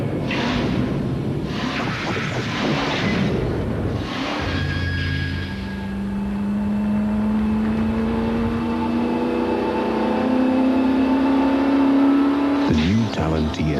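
An Eagle Talon TSI Turbo all-wheel-drive car accelerating, its engine note climbing steadily in pitch as it pulls through the revs, loud and continuous, with a voice talking over the start.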